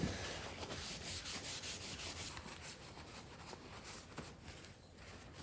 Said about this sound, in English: now to just pull that wax off